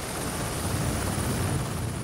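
A helicopter drones overhead in a steady, dense rotor roar that holds unchanged throughout, loud and continuous with no voices.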